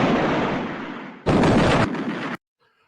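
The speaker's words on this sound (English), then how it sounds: "Now see, the explosion's getting worse." A loud explosion roars as a sustained rumbling blast, surging sharply louder partway through before cutting off abruptly into near silence.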